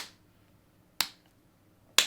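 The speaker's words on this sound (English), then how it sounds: "That's like a 1 hertz clap." Two sharp hand claps spaced about a second apart, each a crisp isolated crack with a short decay into near silence, close and clear with no talking.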